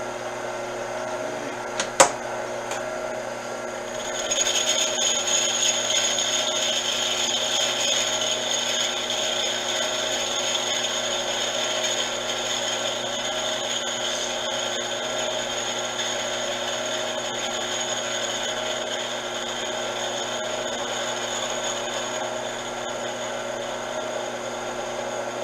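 A combination lathe takes a light face cut on a bronze hammer head cast from scrap, with lube applied. It gives a steady, even cutting whine with a faint metallic ring, running alone after a brief click.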